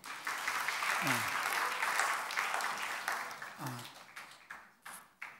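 During a Sunday church service, a congregation applauds after a completion certificate is presented. Steady applause carries a couple of brief voice calls mixed in, then tapers off into a few last isolated claps.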